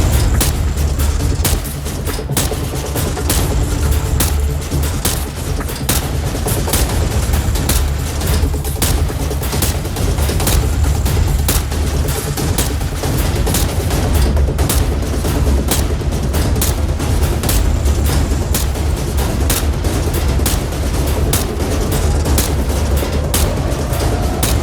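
Rapid rifle shots ring out continuously at pop-up targets on a shooting range in Call of Duty 4, a dense, loud barrage of sharp cracks with no pauses, set over steady background game ambience.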